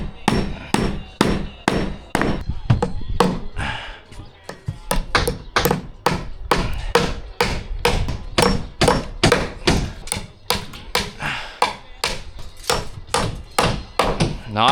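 Hammering nails into timber on a DIY tiny house build: a rapid run of loud, sharp hammer blows, close by and steady, with a short gap partway through.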